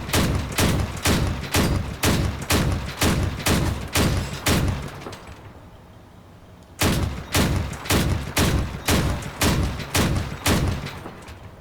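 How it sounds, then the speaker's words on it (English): A Crossout autocannon fires a steady series of loud, evenly spaced heavy shots, about two per second. The shots stop for roughly a second and a half, then resume in the same pounding rhythm, with no talking over them. "from dead on with the autocannon"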